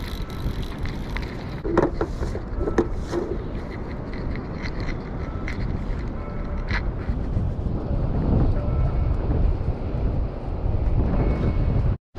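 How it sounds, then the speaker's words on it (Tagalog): Gusty wind buffeting on a fishing pier at Redondo Beach on a cold day, a continuous broadband roar against the microphone with a few faint clinks and knocks, no voices. "it's getting cold and it's a little bit windy today"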